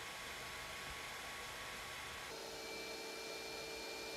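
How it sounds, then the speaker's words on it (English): Cooling fan and power supply fan of an Ender 3 S1 Pro 3D printer, a steady close broadband whir with faint tonal hums that shifts slightly partway through, running alone without talk. "The cooling fan noise is a little louder than I'd like it to be, and also the power supply fan runs constantly"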